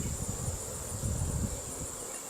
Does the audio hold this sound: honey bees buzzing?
yes